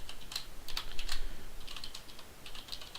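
Keys on a computer keyboard clatter in quick irregular bursts of close, crisp taps, with short pauses between runs and no voices.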